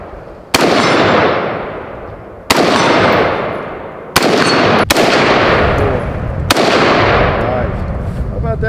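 Four loud, close gunshots fired at steel target plates outdoors, each a sharp crack with a long ringing decay, spaced a second or two apart.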